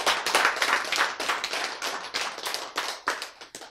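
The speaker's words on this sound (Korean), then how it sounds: "박수!" Brief burst of audience applause in a lecture hall, a dense patter of many hands clapping at moderate volume for a few seconds, with no talking over it.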